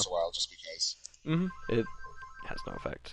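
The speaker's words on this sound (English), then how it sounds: "Sorry about that phone call." A telephone rings with short, repeated electronic trill tones in the background while people talk over it nearby.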